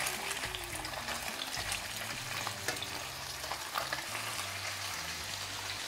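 Marinated fish fillets frying in a hot pan, a loud continuous sizzle with crackling pops throughout, close by and without talk.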